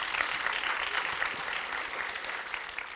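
At a reading with George R. R. Martin, an audience applauds with dense, steady clapping that fades slightly at the end, heard alone without voices.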